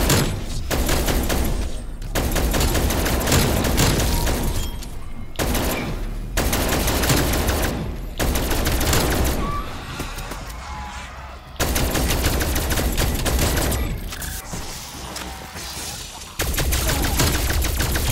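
Loud, rapid bursts of automatic gunfire from Call of Duty: Black Ops Cold War zombies mode come in repeated volleys, separated by short pauses.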